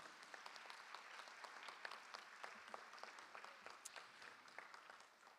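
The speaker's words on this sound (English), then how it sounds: "Let's give our orchestra students a round of applause." Faint, scattered applause fills a school board meeting room as the audience honors orchestra students, individual claps standing out against a thin, steady patter.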